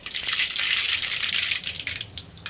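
Mustard seeds hit hot oil in a pan, giving a brief burst of bright crackling and spattering pops, close and with no voices.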